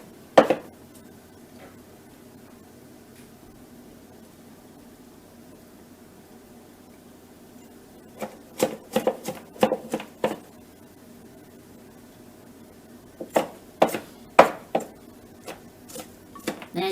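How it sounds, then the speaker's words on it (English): A knife chops meat and vegetables together on a board for roujiamo, a Chinese pocket sandwich, in quiet kitchen air: a few sharp taps, a long pause, then two clusters of brisk, close knocks. "Then chop the meat and the vegetable together."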